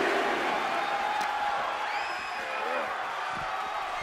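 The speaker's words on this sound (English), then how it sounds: "The sound of this crowd is deafening" A wrestling match crowd roars in a loud, continuous wash of cheering and whoops, with a commentator talking over it.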